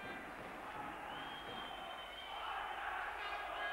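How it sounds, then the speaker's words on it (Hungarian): A packed crowd at a women's basketball game in Sopron, Hungary, roars and cheers, a dense rising swell of voices heard at a distance with a commentator talking over it. "Megjön a közönség hangja"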